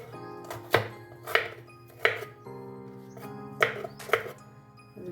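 Knife chopping raw green mango for a mango and mint chutney, a series of sharp, close thunks on a board spaced about half a second to a second apart, with no talk.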